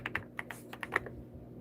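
Rapid typing on a computer keyboard, a close run of crisp, uneven clicks about a tenth of a second apart, with nobody speaking.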